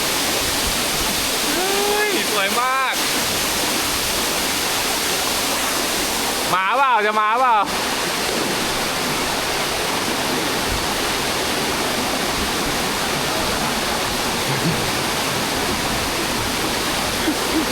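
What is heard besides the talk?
waterfall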